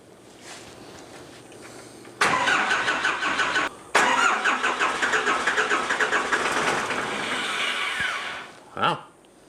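Cummins 4BT diesel engine in a 1968 Ford Bronco cranking over with a rapid rhythmic chug, starting after a quiet pause, briefly cutting out, then cranking on for several seconds before stopping with a final short burst.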